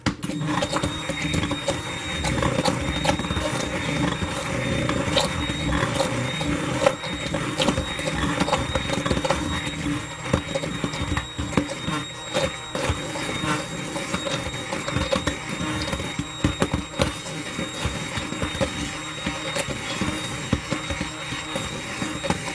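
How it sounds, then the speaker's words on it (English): Steady whirring drone of a stick blender mixing soap base continuously, with rattly clicks and slight changes in pitch as it mixes, close up and without talking. "So let's go ahead and get our stick blender."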